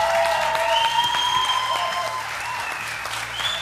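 A studio audience at a karaoke TV championship broadcast claps in steady, loud applause, with sustained music tones ringing over the clapping.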